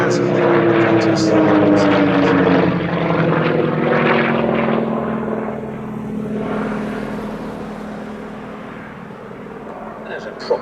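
A Percival Provost trainer with its 550-horsepower nine-cylinder Alvis Leonides radial engine drones steadily and loudly, the engine note easing and fading a little as it passes, with someone talking over it.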